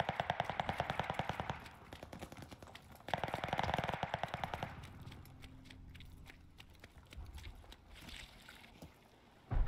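Rapid rifle fire in Call of Duty: Vanguard, played as a beta, comes in two dense bursts of close, loud shots with tightly spaced reports, then quieter scattered shots and clatter.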